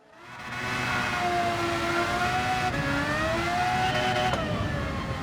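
A race car on comfort soft tyres in Gran Turismo 7 holds a loud, steady engine drone, its pitch climbing and dropping through gear changes, with no talking over it.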